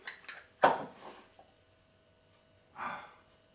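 A mould of rainbow rice is lifted off like a sandcastle: a sharp knock and clatter at the start, a brief later tap, then a softer scraping rustle near the end, close and alone with no voices.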